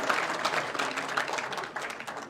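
A crowd at a political gathering breaks into loud, continuous applause for an honoured guest, a hearty wash of clapping with no speech.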